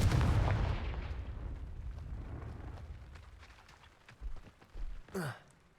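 A Confringo fire spell explodes in the Hogwarts Legacy video game, giving a loud low booming blast at the start that rumbles away, followed by a few softer thuds and a brief whooshing swell near the end.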